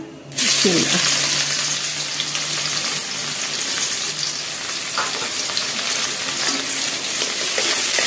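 Chopped onions hit hot oil already holding bay leaves and cumin for chicken khichuri, bursting into a loud, sudden sizzle that carries on steady and close throughout.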